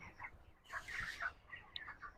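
Healthy broiler chickens on a poultry farm give soft, scattered clucks and chirps, several birds calling in quick irregular bursts at a modest distance, with no talking.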